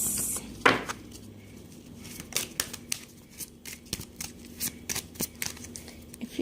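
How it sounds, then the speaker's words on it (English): Tarot cards being shuffled close up, a steady run of crisp riffling snaps and soft slaps with brief pauses between bursts. "Let me just shuffle the cards."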